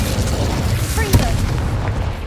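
A Confringo explosive spell blasts in Hogwarts Legacy, a sharp single crack and boom cutting through a heavy low rumbling game background, with a brief whistling tone before it.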